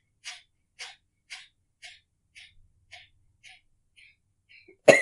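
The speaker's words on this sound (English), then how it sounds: "you're just going to pump the air out and then the inhale is going to happen naturally" Forceful nasal exhales of pranayama breathing, pumping the abdomen: about nine sharp, evenly spaced puffs that slowly soften, then one louder breath at the end, close and alone.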